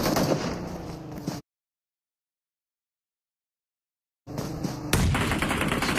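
Grenade explosions in a PUBG Mobile match tear through in loud, dense bursts of blasts and gunfire-like cracks, cut off by a silent gap, then resume with a sharp, heavier blast near the end.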